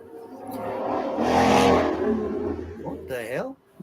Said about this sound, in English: That was a car.